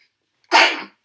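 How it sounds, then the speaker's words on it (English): A single sharp human sneeze bursts out after a brief silence, loud and close, then trails off quickly. "I'm about to sneeze."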